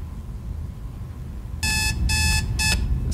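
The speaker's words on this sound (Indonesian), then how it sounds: "Set the alarm again." An alarm clock in a horror video game set in a motel beeps in three short electronic bursts after a quiet stretch, loud and close with a bright, tonal ring.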